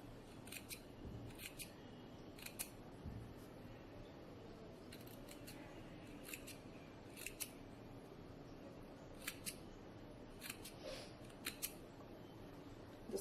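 Scissors snipping notches into baby frock fabric, quiet crisp cuts in short irregular bursts over a faint room hiss, with no talking.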